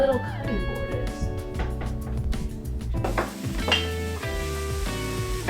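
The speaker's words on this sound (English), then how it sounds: "I'm sauteing the sausage" Sausage sautéing in a pan in a small apartment kitchen, a steady close sizzle with light stirring clatter, heard under background music.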